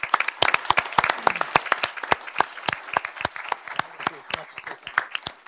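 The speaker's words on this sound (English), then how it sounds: "Let's give them a round of applause here" Applause breaks out after thanks at a city council regular meeting, a modest group clapping with sharp, distinct claps close by, steady for several seconds.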